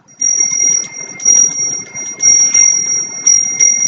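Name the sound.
bell being rung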